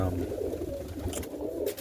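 Roller pigeons in a loft in the dark give soft, low, rolling coos at close range, one after another across the moment, with faint rustling and a few light knocks toward the end.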